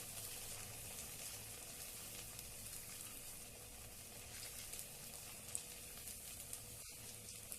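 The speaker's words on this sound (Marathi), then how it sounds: "आपण साबुदाणे वडे तळतोय तुम्ही बघू शकताय" Sabudana vada, crispy sago fritters, frying in hot oil with a steady, even sizzle and soft bubbling throughout, close by, with a couple of faint clicks near the end and no voices.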